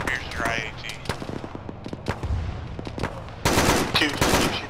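Bursts of gunfire and anti-tank fire in a military video game, sharp scattered shots through the first seconds and then a loud sustained roar of fire near the end, with voice chat talking over it.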